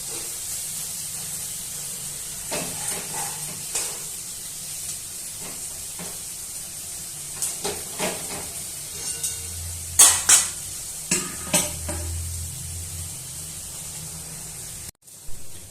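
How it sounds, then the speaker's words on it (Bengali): Fish pieces shallow-frying in oil for a Bengali dish, with a steady soft sizzle and hiss throughout and scattered louder crackles and spatters near the middle, heard alone and close up. "প্রত্যেকটা মাছ ভালো ভাজা হবে না তলিয়ে দিতে হবে"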